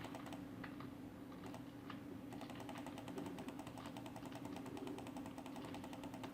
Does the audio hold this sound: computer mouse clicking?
yes